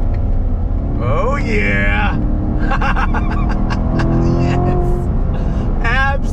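A Chevrolet Corvette Grand Sport rumbles hard as the engine revs through a downshift, a loud, steady low growl, with someone speaking excitedly over it in short bursts.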